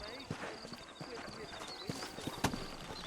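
Horse hooves clip-clopping in the Red Dead Redemption video game, a quiet, uneven patter of hoofbeats with light jingling tack over a soft outdoor background, with a sharp knock near the end.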